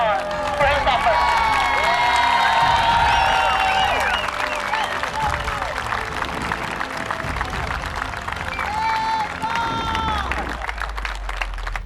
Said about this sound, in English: Join me here in giving Paul Fry a big round of applause for his efforts.